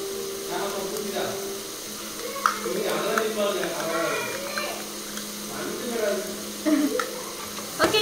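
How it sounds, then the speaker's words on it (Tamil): Beaten egg frying in a pan during a night cooking routine: a steady sizzle with occasional scraping and stirring taps, under a person talking. "ஃப்ரை பண்ணிட்டு இருக்கேன்"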